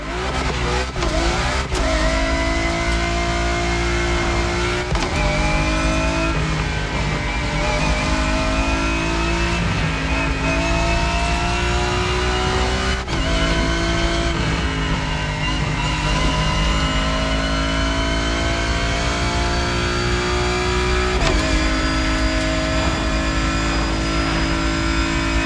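A car's engine revs and climbs through gears on a race track in the driving game TC Motorfest, loud and continuous with repeated rising pitch sweeps broken by brief shift drops, no voices.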